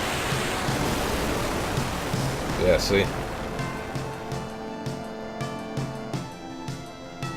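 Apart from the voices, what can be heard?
Leviathan water summon attack, Final Fantasy 8 video game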